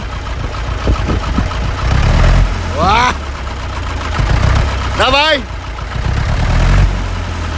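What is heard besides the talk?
Ursus tractor engine revving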